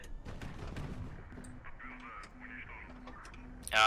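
Missile launches and gunfire in the HighFleet naval combat game, several sharp shots early on, then a regular repeating low tone and whooshing sounds, with a loud burst at the very end.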